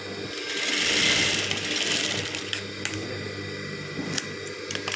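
A sewing machine stitches nightwear fabric, giving a brief whirring run followed by quieter mechanical clicks and ticks from the machine; no voices are heard.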